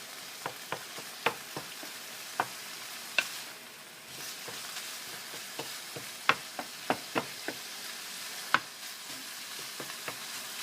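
Pork with ginger frying in a pan gives a soft steady sizzle, broken by frequent sharp ticks and pops of stirring and spattering, fairly quiet and close with no voices.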